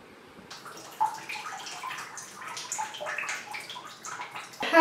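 Shower water runs during a natural hair wash day, splashing and spattering irregularly close by, with no talk.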